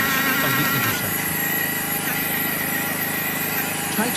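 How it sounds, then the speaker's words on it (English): Long drill bits bore through thick log cabin logs where they cross, a loud continuous whining motor drone with grinding texture, steady throughout with brief load changes near the start and end. "Long drill bits are necessary to bridge the thickest points of the intersection."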